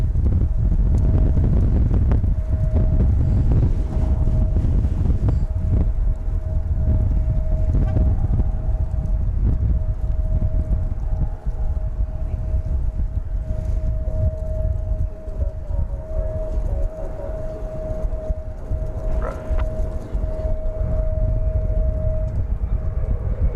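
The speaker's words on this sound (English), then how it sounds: "take a look at the arrival of American Flight 3649 from Rapid City and Embraer" An American Airlines Embraer 175 arriving at DFW Airport makes a sustained loud roar with a steady tonal whine, heard from a distance through heavy wind buffeting on the microphone, no talking.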